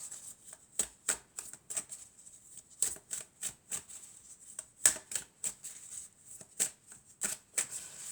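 Tarot cards being shuffled during a card reading, a close run of crisp riffling flicks and soft slaps in an irregular rhythm, heard alone with no voices.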